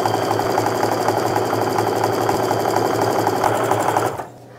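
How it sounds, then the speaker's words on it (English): A sewing machine joins quilt strips into a set of three with a quarter-inch seam, running steady and close for about four seconds before stopping. "going to sew this into a set of three using a quarter inch seam"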